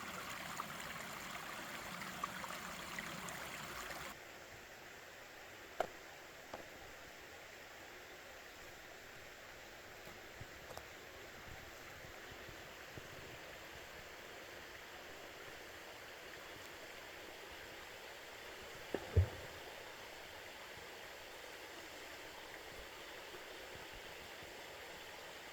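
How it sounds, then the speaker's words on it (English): A forest stream in Sawyer County's Chequamegon woods runs as a faint, steady hiss of moving water, continuous throughout with a brief louder patch at the start and a couple of small knocks. "I heard running water just ahead."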